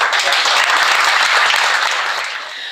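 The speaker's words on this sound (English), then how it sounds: "please, give a big round of applause." A crowd at a charity golf day applauds steadily, a dense wash of clapping that holds for a few seconds before starting to fade.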